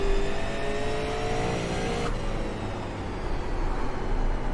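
A race car engine screams at high revs around New Smyrna Speedway in a racing game, loud and steady with a sharp pitch drop partway through as the car shifts or lifts, then holds on.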